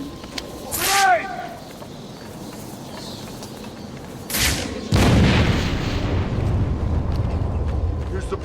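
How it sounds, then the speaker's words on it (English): A grenade goes off in Batman Arkham City, a loud blast with a rumbling tail after a couple of earlier thumps, shouted voices around it. "Grenade!"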